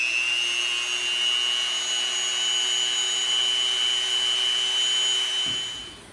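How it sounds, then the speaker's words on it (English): A Dremel rotary tool cleans up the edges of scroll-saw-cut EVA foam, giving a steady high-pitched whine with a low hum beneath, running continuously and loud for about five seconds before the motor cuts off. "Now we're going to come in with our Dremel and we're going to clean up in there a little bit."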